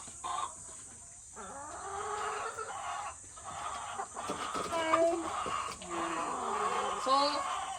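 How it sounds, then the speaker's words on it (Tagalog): A rooster clucks repeatedly in short, irregular bursts close by, mixed with other hens in a cage-free backyard flock, while people talk quietly in the background. "Ito yung ating rooster."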